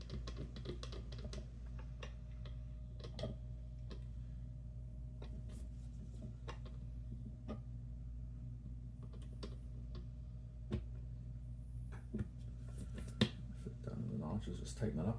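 The jaws of a watch case opener tool are adjusted while changing the battery in a Bulova Lunar Pilot, producing faint, sharp, irregular clicks over a low steady hum in a quiet room.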